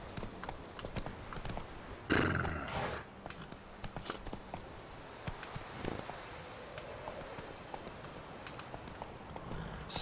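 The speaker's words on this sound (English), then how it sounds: "So let's ride the horse a bit." Roach the horse's hooves clip-clop steadily at a ride through the Witcher 3 world, close and fairly loud, with a brief whinny near the start and a rustle of movement throughout.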